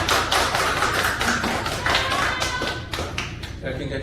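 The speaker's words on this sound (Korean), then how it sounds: "베이스 박수." Audience applause for the bass section of a church choir, dense clapping filling the room for about four seconds, loud and steady before thinning toward the end.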